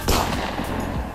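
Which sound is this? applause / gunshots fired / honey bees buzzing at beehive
gunshots fired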